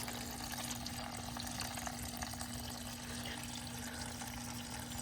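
Coolant drains steadily out of a Harley-Davidson V-Rod water pump during a DIY replacement, a continuous close trickling and splashing of liquid with a constant low hum underneath and no talking.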